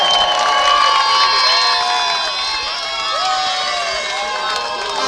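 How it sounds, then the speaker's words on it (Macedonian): A crowd cheers for the second-placed Rataja team at a regional award ceremony, with loud overlapping shouts, whoops and whistles, and a little clapping beneath the sustained roar. "Аплауз за лавовите на Ратаја."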